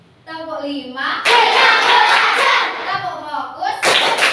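Students in a class clap together in a counted rhythm pattern, a dense burst of several sharp claps followed by a short second burst. Group chanting comes before and between the claps.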